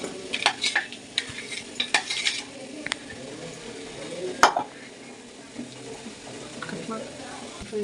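Ground almonds being fried in ghee and stirred, with sharp metal spoon scrapes and clinks against the pan over a faint low sizzle.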